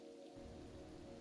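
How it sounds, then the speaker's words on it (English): Steady rain ambience plays as background during a tabletop role-playing game session, a broad continuous wash with low rumbling texture, fairly faint and even throughout with no talk. "between the banter and the sound of rain, you didn't hear anything"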